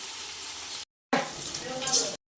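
Half a kilo of onions frying in a pan toward golden brown for dum biryani, a steady close sizzle with stirring, in two stretches split by brief silent gaps.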